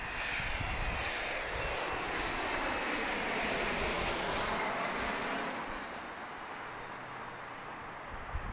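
A fixed-wing passenger jet arrives at John Wayne Orange County airport, its engine roar loud and steady overhead, swelling then easing as it passes, with a broad rushing wash and no talk.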